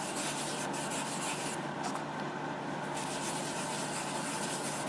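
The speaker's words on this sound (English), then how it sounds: "I'll just rub it in with this rag." Steady, continuous rubbing of shellac-based sanding sealer into a turned wooden bowl with a rag, a soft broadband swishing that persists without pause at close range.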